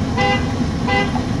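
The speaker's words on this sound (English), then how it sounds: "why are you blowing that horn?" Two short car horn honks about a second apart at a gas station pump, sounding loud over a steady low engine idle and traffic rumble.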